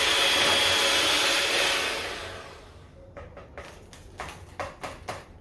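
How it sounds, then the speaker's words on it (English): Electric hand mixer whirring steadily while making a lemon parfait, a loud continuous motor hum for about two seconds that fades out, followed by several light clicks and taps. "just bear with me with my mixer"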